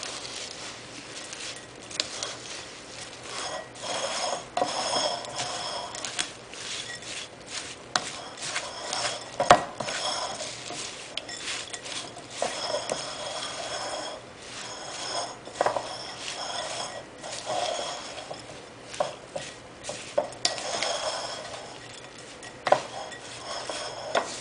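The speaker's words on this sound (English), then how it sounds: "So if you just keep stirring it, eventually you'll get all of the dry ingredients coated with the honey mixture." Dry ingredients stirred into a honey mixture in a bowl, a continuous close run of soft scraping and clinking utensil strokes in an uneven rhythm, with no talk.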